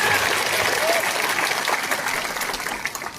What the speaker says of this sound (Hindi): अरे हम लोग का बुरुई को भी ताली करो यार